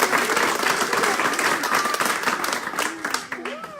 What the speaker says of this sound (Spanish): Démosle ofrenda de palmas al Padre, al Hijo y al Espíritu Santo.